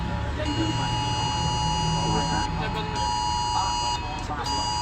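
A steady, repeating electronic national emergency alert tone drones on with short breaks, while people talk over it, in Thailand.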